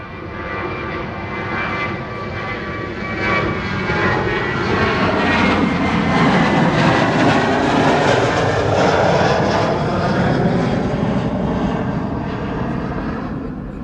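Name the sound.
KLM Boeing 737-800 jet aircraft at Schiphol airport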